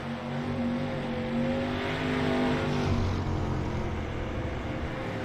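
Race car engine revving on a dirt track in a racing game, a steady droning roar that holds for several seconds with a slight rise and fall in pitch, loud and continuous with no talk over it.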